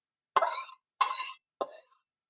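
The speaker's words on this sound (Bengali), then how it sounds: "এখন আমি ঢেলে নিব।" Cooked freshwater prawn curry being ladled into a dish in a village kitchen: three wet, splashy plops about half a second apart, each short and close, with silence between and no talking.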